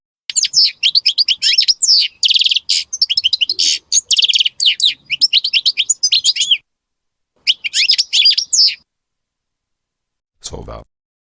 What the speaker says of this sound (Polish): Szczygieł.